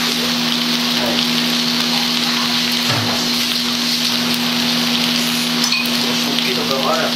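Hamburger patty frying in a pan in a home kitchen, a steady dense sizzle like light rain over a constant low hum, with a few faint clinks.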